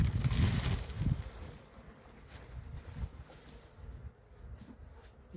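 Honeybees buzzing around a hive frame during a spring inspection, a low droning hum that swells loudest at the start and then continues more faintly with small bursts, close by, with no talk.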